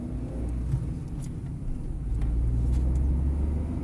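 A Peugeot 208 with a three-cylinder engine on the road after repair of an engine noise, heard from inside as a steady low rumble with a slight rise in revs, no talking over it.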